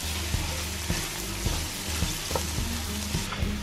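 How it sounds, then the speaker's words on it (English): Onions fry in a pan with lemon and dill seasoning stirred in, giving a steady close sizzle broken by regular soft knocks of stirring, with no voices. "I'll just fry the onions up"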